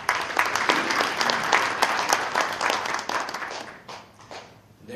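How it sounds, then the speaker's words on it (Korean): An audience at a hotel prayer breakfast applauds to welcome the provincial education superintendent to the stage: lively, close clapping that holds strong, then thins and fades toward the end. "교육감님 큰 박수로 모시겠습니다."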